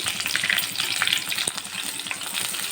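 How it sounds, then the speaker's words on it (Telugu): Spices crackle and sizzle steadily in hot oil in a pan for a chicken and egg curry, a continuous close frying hiss with fine popping throughout. "చూడండి ఎలా చిట్పటా చిట్పటా ఉంటున్నాయో"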